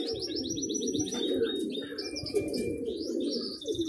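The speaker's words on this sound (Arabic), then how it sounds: "حطينا لكم الحمام" Pigeons being kept for sale coo steadily in a close, continuous low murmur, with brighter chirps and tweets scattered above it throughout.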